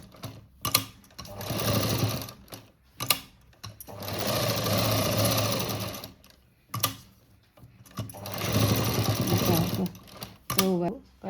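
A sewing machine stitches tucks on a blouse in three long rattling runs with short pauses between them, close and clear, while someone speaks in Marathi during the gaps.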